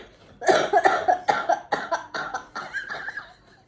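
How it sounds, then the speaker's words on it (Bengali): A traveller on a hill trip between Shimla and Manali coughs in a close, loud string of about eight harsh bursts, each one short and rapid. "শিমলায় মানালিতে মানে ঢুকতে না ঢুকতে ওদের কাশি হয়ে গেছে"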